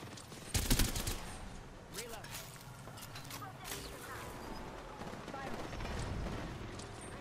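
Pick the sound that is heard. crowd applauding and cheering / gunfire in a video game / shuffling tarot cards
gunfire in a video game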